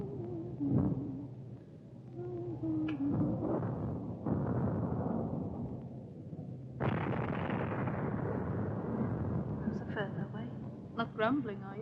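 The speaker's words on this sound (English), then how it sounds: "Sounds as if we got more guns than last time." Distant anti-aircraft gunfire in a wartime film scene, low muffled booms and rumbling bursts rolling in the background beneath people talking.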